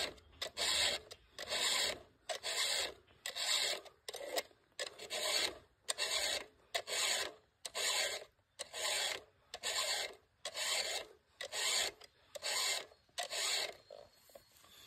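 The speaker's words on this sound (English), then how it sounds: "filing a saw like this is not how I grew up" A hand file rasps across the teeth of a saw in a steady series of about fifteen strokes, each a loud, close scraping burst separated by short pauses, with no talking.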